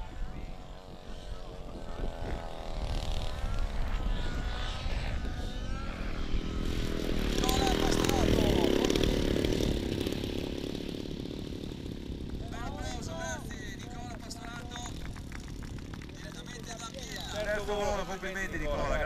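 A Hawker Hurricane aircraft engine at an air show in Ferrara starts and settles into a loud, continuous propeller roar that builds and then holds steady, with someone speaking over it.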